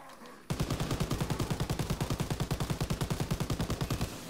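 Rapid automatic machine gun fire from a zombie survival video game, a steady rattling burst of evenly spaced shots that starts abruptly and runs loud and continuous for about four seconds.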